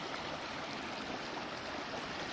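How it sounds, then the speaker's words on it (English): Water rushing steadily through a small dam's overflow spillway flume at Hog Lake, Fishtrap, Washington, feeding a creek; a constant broadband splashing flow, close and even, no voices. "This is just kind of an overflow spillway, and it goes out to the creek here."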